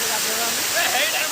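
Continuous broadband roar of water falling at Champeswar waterfall, loud and steady, with a voice talking faintly over the rush.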